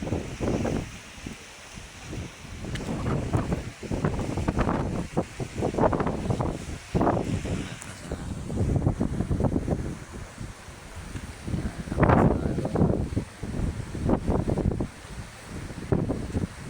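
Strong wind at sea off Matabaw in Bicol, buffeting the microphone in loud, gusty roars with surf and boat noise underneath throughout.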